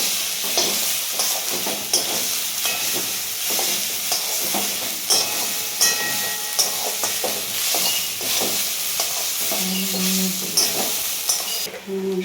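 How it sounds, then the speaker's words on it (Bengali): Fried soybean chunks, tomato paste and spices sizzle loudly in a hot pan while a utensil stirs and scrapes repeatedly, a constant frying hiss under irregular clatter. "আচ্ছা, সয়াবিনগুলো ওর মধ্যে ছেড়ে দিল মা,"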